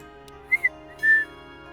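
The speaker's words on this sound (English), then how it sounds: "Elle turns back to the birds and whistles softly." Soft whistled notes from a character calling to birds in the video game Hush Hush: two quick short chirps, then one longer sustained tone, over a faint steady game ambience.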